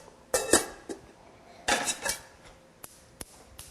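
Metal clanks and clatters in a few bursts, a lid settling onto a pot with small taps afterward, close by and fairly loud.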